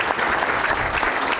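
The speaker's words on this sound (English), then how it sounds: "why don't you give them a round of applause?" An audience at a public meeting about a police consent decree breaks into brief, steady clapping that fills the room alone, a dense patter of many hands.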